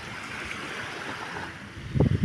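Sea waves wash steadily onto a beach, a constant near rushing surf with a louder splash of water at the end and no voices.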